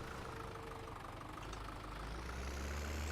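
A tractor engine idles in Farming Simulator 17, a steady low droning rumble held at an even level throughout, with no voices.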